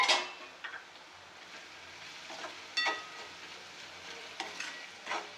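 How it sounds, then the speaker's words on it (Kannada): Onions sizzle steadily in a pan for Uttara Karnataka style sabsi palya, with a few sharp clinks of a spatula stirring against the metal scattered through the quiet, even frying hiss. "ಉಳ್ಳಾಗಡ್ಡಿ ಚಲೋ ತಾಳಿಸ್ಕೋಬೇಕು."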